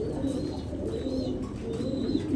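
A racing pigeon, a single male offered for sale, coos softly in repeated low rolling phrases, close and alone with quiet background noise.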